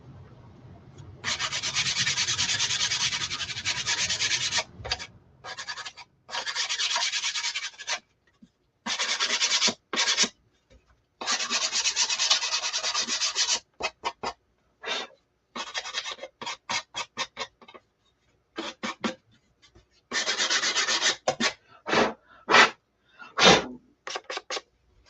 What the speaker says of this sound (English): I need to do a little sanding on Minnie's front side.